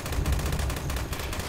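Rapid gunfire from a gun in the video game Fallout 76 rattles on without pause, dense and loud throughout the short burst.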